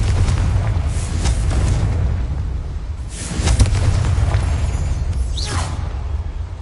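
In a video game, a Confringo spell bursts into an explosion that booms as a low rumble, with whooshing and crackling surges that swell and fade across several seconds.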